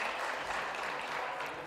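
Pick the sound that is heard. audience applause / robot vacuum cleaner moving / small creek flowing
audience applause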